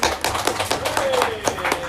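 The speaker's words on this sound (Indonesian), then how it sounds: "Tepuk tangan buat Mang Aep Pancet" Audience clapping for a performer at a nighttime community podcast gathering in a neighborhood, a steady patter of hand claps filling the short moment with voices mixed in.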